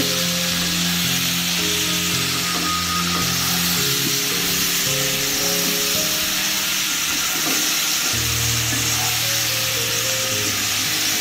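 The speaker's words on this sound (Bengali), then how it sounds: "এবার এটা আমি ভালো করে নেড়ে চেড়ে মাখিয়ে নেব" Pui shak greens with chilli powder are stirred and fried in a pan, a loud, continuous sizzle with scraping under steady tonal background music.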